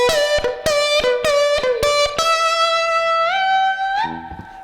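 Electric guitar playing a quick hybrid-picked blues lick of snappy, plucked notes in a steady rhythm, ending on a sustained bend with slight overdrive.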